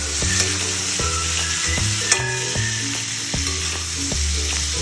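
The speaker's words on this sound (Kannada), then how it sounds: "ಇದಿಷ್ಟನ್ನ ಫ್ರೈ ಮಾಡ್ಕೋಬೇಕು." Spices sizzling in hot oil in a pan for a fish fry, a loud, continuous crackle with repeated stirring scrapes and clinks, and no talk.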